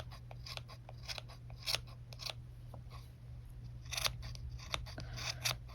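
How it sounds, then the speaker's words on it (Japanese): Scissors repeatedly snip yarn to trim a round pompom, a series of close, crisp cutting clicks in an uneven rhythm with no voices. "右手はずっと同じ 感覚でハサミを動かしてるっていう感じです"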